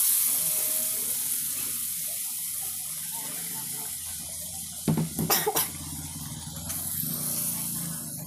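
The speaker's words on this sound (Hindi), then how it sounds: "ग्रेवी के अनुसार जितनी आपको ग्रेवी चाहिए उतना इसमें पानी ऐड कर देंगे।" Water is poured into a sizzling moong dal vadi gravy in a pan, giving a steady hiss that is broken by a short burst of sharp crackles midway.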